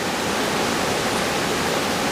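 Floodwater rushes and splashes over the Diversion Lake dam in a July flood, a loud, dense, unbroken roar of turbulent water close by with no voices.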